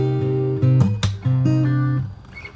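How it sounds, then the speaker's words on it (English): Fingerstyle acoustic guitar arrangement mixes plucked bass notes with percussive slaps, including a quick double slap, near and moderately loud with no voices. "So that's a double slap I added in there, as well as the normal slaps."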